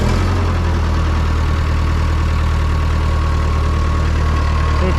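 An old Ford 9N/2N tractor engine runs steadily at idle, a loud, even low chugging drone that holds constant throughout with no voices.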